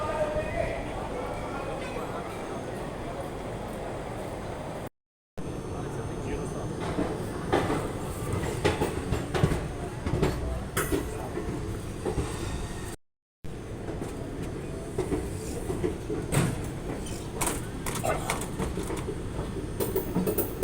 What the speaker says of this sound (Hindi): फाइनली ट्रेन ने डिपार्चर ले लिया।